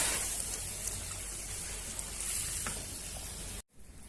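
Chicken varuval fries in a pan with a continuous close crackling sizzle and small pops, which cuts off abruptly just before the end.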